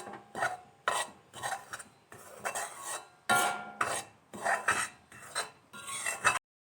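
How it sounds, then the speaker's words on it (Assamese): Dry wheat flour roasting in a pan, stirred with a utensil in repeated rasping scrapes about once per second, close and fairly quiet, with no voices. "প্ৰথমতে মই একাপ আটা কিছু সময় ৰঙচুৱা হোৱালৈ ভাজি আছোঁ।"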